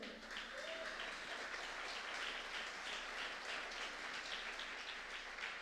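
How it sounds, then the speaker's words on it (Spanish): A church congregation applauds the Lord at a Sunday family-day service, steady dense clapping filling the room without a break from start to finish. "le dan un aplauso fuerte al Señor"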